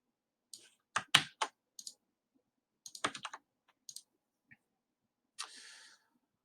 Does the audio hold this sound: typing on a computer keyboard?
yes